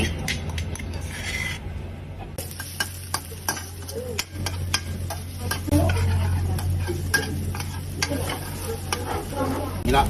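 Pounded ground pepper sizzles in a hot wok for Thai palo stew while a utensil scrapes and taps against the metal in quick, irregular strokes.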